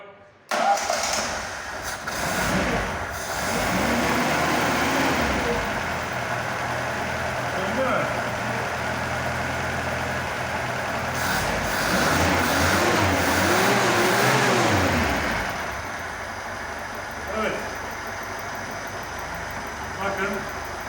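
A Lada VAZ 2105 with a belt-driven engine, run on petrol, cranks and fires up, then settles into a steady loud idle with a few revs, while people talk nearby during the workshop repair.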